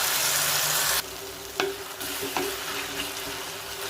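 Steady sizzling of tomatoes sautéing in a pan for kadamba chutney, with a couple of brief clinks of a utensil stirring partway through.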